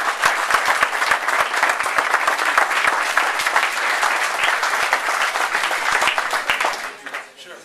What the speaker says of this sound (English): Let's give them all one big more round of applause.